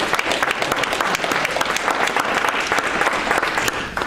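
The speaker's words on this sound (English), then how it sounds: "Would join me in giving a round of applause for our panelists." Warm round of applause from a museum salon audience for the panelists, a continuous, even patter of many hands clapping, fairly close and full, with no voices standing out.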